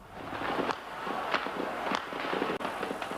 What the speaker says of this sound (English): The noise of gunfire rose from all over the center of Peking.